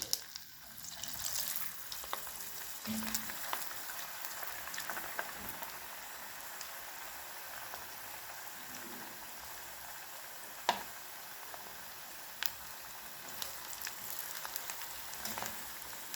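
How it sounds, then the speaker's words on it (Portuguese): Bolinhos de quermesse fry steadily in hot oil, a dense continuous crackle and sizzle with scattered sharper pops, close and without speech throughout. "Vamos adicionar os bolinhos. Devagarzinho no óleo."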